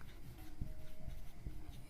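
Chalk or marker scratching on a board during a physics class on waves, soft and close, with short rhythmic strokes and taps, no talking.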